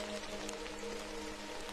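Steady rain falls close by as a dense, even patter of drops with no pauses, a soft continuous hiss that holds at one level throughout.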